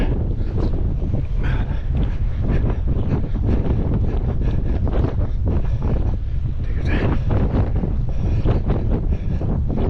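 Steady wind buffets the microphone by a lagoon during a morning 10k run, a constant loud rumbling roar with gusty crackles throughout and no clear talk.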